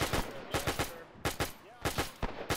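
Bursts of .30 cal machine gun fire in an ARMA 3 WW2 mod beach landing, Operation Torch 1942, coming in short rapid strings of three to four shots with brief pauses, fairly distant and moderately loud.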